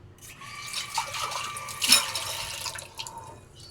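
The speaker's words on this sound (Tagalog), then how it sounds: "Hugasan muna natin itong baso niya." A drinking glass is washed under a running kitchen tap, with a steady trickle of water and a few brief splashes and clinks, loudest near the middle, heard close and alone.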